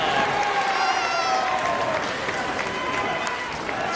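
A wrestling arena crowd roars and applauds continuously through a professional-wrestling match, the dense cheering loud and steady throughout with a commentator's voice audible over it.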